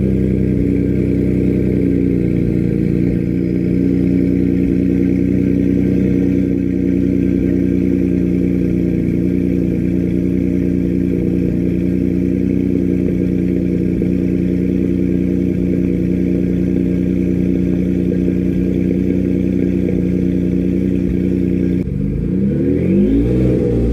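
A Ford F150 with the 3.5L Ecoboost V6 and an aftermarket exhaust idles and revs steadily with a deep, throaty drone, close and loud throughout, ending in a short rising rev.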